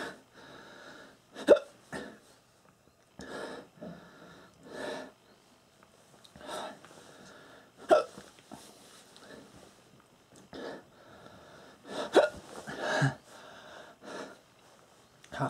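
A person gets repeated hiccups after eating bird's eye chilli, sharp short gulping bursts scattered irregularly over the stretch, mixed with gasps, heavy breathing and sniffs at close range.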